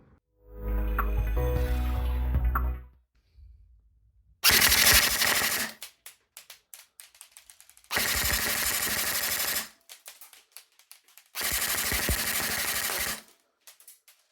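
A Double Bell 040 JW4 Gen-12 Dracarys shotgun-style airsoft AEG, an M4 in disguise, firing rounds in three sustained full-auto bursts of rapid buzzing cycling, loud and close, after an earlier mechanical whir.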